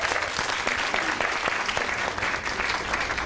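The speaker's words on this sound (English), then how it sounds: "Everybody give him a round of applause." An audience at an inspirational keynote talk breaks into dense, sustained applause that fills the room evenly for several seconds, loud and continuous with little talk over it.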